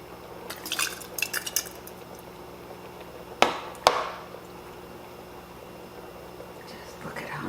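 Meat spaghetti sauce, thick with tomatoes, is spooned into glass canning jars at home, with light clinks of utensils and glass in short bursts, two sharper knocks midway, and wet sloshing under a quiet room hum.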